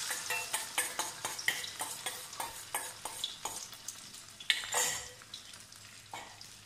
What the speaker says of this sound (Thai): น้ำมันเริ่มร้อนแล้วนะคะเราจะใส่ไข่ลงไปค่ะ